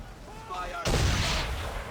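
Ship cannons fire in a naval fight: after a quieter stretch with faint voices, one heavy booming blast hits close and loud, its rumble lingering and decaying for over a second.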